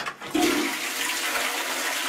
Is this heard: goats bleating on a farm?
no